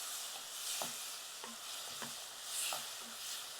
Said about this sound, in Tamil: இது நல்லா வதங்கணும், கரைஞ்சி வதங்கணும்